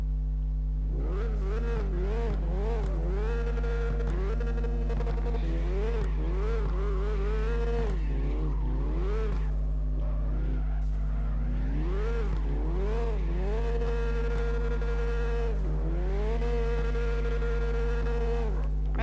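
Car engine in CarX Drift Racing Online revving through repeated rising and falling sweeps, with tire squeal during drift runs, steady and close throughout with no talking.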